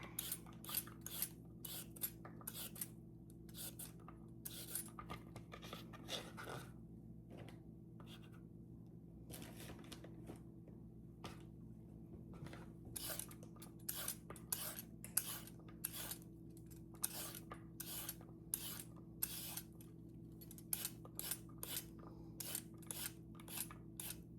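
Carrots being peeled and chopped by hand in a home kitchen make quick, rhythmic crisp cuts and scraping strokes, fairly close and fairly quiet, coming in fast runs with brief pauses.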